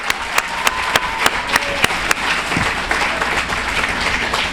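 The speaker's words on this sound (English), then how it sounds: "let's give him a round of applause" A small indoor audience applauds, scattered individual claps at first building into a steady round of clapping, close and fairly loud, with no talk over it.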